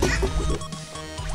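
Quacks from the duck gun in Battleblock Theater come in a loud, steady rapid string over dense game noise and music.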